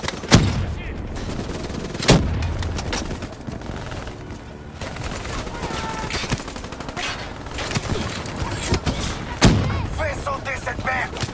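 Gunfire in the Call of Duty Black Ops III video game: sustained automatic fire mixed with sharp heavy blasts and booms through the whole stretch. Loud and dense, with game voices under the shooting.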